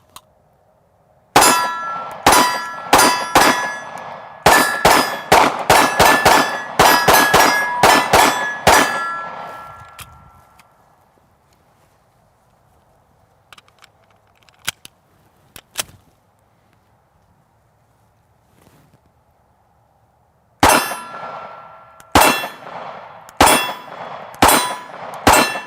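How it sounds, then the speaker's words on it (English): A CZ 75 P-07 Duty handgun fired at steel targets outdoors, heard as loud rapid strings of sharp metallic clangs and rings, a quiet pause, then another fast volley of ringing hits. "I'm gonna take a few shots of the P07 Duty."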